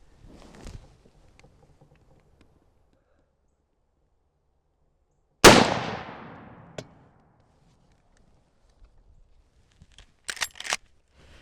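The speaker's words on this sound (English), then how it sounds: "We're just going to fire 2 more" A single loud, sharp rifle shot from a Marlin 30AW lever-action in .30-30 Winchester at a 100-yard range, with a short decaying echo, set among quiet handling clicks and small knocks before and after.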